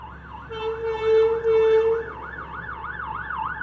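An ambulance siren wails in a steady up-and-down cycle, loud and fairly close, with a second steady tone briefly cutting in over passing road traffic.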